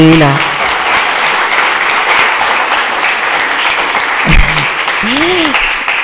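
A crowd at a legislative plenary session applauds loudly and continuously while a few voices and short tonal sounds cut through the clapping.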